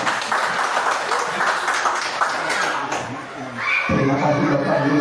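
Parents and teachers at an elementary school event clap together, a spread of handclaps and light laughter mixed with a voice, before a tonal sound takes over near the end.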